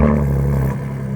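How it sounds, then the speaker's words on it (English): A 2022 Ford Raptor truck engine revs up loud and close, a raspy rumble that holds steady and then drops off partway through the short burst. "Let's listen to the Raptor truck."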